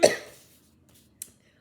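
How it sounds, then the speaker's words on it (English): A woman gives one sharp, close cough that fades out, followed after a short pause by a small second throat sound. "I am so sorry for all this coughing."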